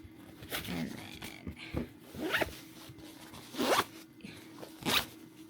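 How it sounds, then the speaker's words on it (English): Zippers on clothing compression packing cubes are pulled shut in several quick rasping strokes, close and distinct, separated by short pauses and light handling noise. "you zip them up to start out with like that, and then to get them to compress, there is a second zipper here"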